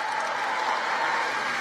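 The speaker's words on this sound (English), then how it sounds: "Give it a round of applause for your county executive, Chris Avely." A crowd claps steadily at a former President Obama midterm campaign rally in Wisconsin, a dense, sustained wash of applause that holds at an even level throughout.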